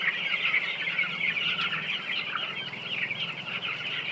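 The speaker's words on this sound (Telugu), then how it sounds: "కోడి పిల్లలకి మేత పోస్తున్నా" Twelve-day-old broiler chicks in a shed chirp in a dense, continuous chorus while feed is poured, a steady high peeping from many birds close by.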